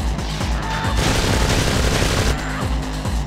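Gunfire in the video game MDK2, a loud, dense run of overlapping booming shots that continues steadily, with a brief surge in the middle.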